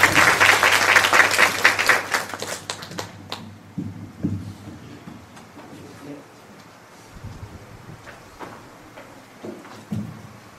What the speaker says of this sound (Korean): 우리 박수로 감독사님 모시겠습니다.